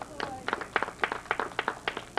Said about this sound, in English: And our regulars give him his applause